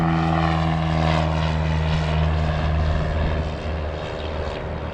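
A small, mostly white propeller plane taking off at a windy airport, its engine droning loudly and steadily with a strong buzzing tone that eases slightly toward the end.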